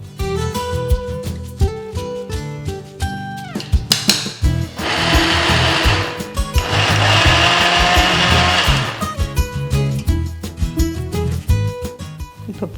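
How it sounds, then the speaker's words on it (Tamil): A kitchen mixer jar grinds lumpy urad dal flour in two short pulses, a loud whirring roar that rises and stops. Scattered clinks and handling noises come before and after, and no one speaks. "இதை மிக்சி ஜாரில் போட்டு பல்ஸில் ஒரு சுற்று சுற்றுறோம்னா அப்படியே ஒரே மாதிரி வந்துடும்"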